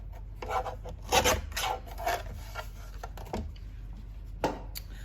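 A paper trimmer slices through card paper with a close, raspy cutting sound in a few short strokes, then quieter handling.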